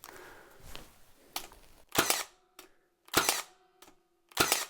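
A Milwaukee GEN II cordless trim nailer fires in single fire mode, with three sharp separate shots spaced about a second apart, each a bright crack with a brief mechanical whir, after quieter handling noise.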